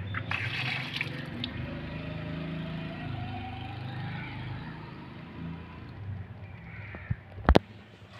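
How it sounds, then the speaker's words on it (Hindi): Water runs steadily from a wash basin tap being checked for a blockage, a continuous close splashing flow with a few sharp clicks near the end. "ये देखें हमारा यहाँ से पानी आ रहा।"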